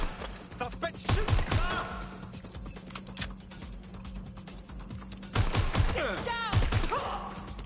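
Bursts of gunfire in the video game Watch Dogs: Legion: loud rapid volleys of shots early on and again later, with a steady low hum and shouting voices between the bursts.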